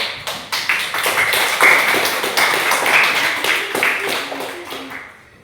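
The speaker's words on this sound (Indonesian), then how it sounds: "Oke, tepuk tangan dulu" Elementary school pupils in a classroom clap their hands together, a burst of sharp, uneven claps close by, mixed with children's voices and chatter.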